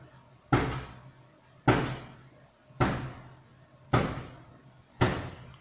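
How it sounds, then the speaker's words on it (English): Repeated heavy blows against a bulletproof back door as people try to break in: five loud booming slams at roughly one-second intervals, each ringing out briefly, with no talk. "They are hitting the door."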